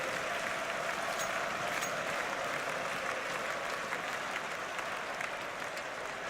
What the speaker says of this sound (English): The crowd has gone absolutely mad here.